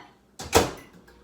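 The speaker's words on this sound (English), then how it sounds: "And then I'm going to warm it in the microwave." A microwave door pops open in a kitchen before water is warmed, one sharp latch click followed by a quick thump that fades, close and alone.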